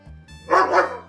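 One dog gives a quick double bark, loud and close, lasting under a second over a low background hum, with no one speaking.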